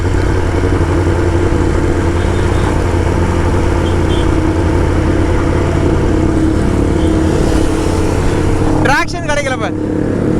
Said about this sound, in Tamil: வண்டி என்ன கற்றுச்சு பார்த்தீங்களா?